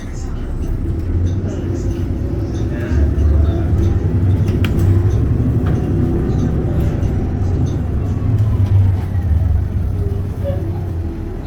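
Interior of an STL Laval city bus on route 151 toward Sainte-Rose: a steady low engine and road rumble droning continuously throughout, with a faint rattly cabin hiss above it.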